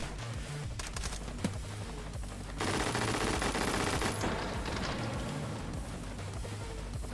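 Rapid automatic gunfire in the VR shooter H3VR, sharp bursts early and then a dense, loud sustained volley with echoing crackle that runs on to the end.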